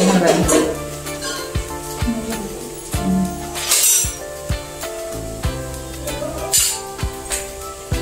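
A spoon clinks against a bowl while curd (dahi) goes into a peanut and jaggery chutney, giving a series of close, distinct metallic taps with soft scraping and stirring between them.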